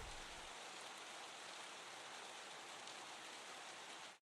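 Steady, dense rain hiss, broadband and even throughout, close and fairly loud, with no other sounds, ending abruptly.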